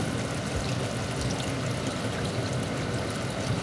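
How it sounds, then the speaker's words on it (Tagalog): Steady splashing pour of water into a pot of pork sinigang broth, continuous and fairly loud, with a broad rushing stream and no talking. "Now lagyan na natin ng tubig, sabaw."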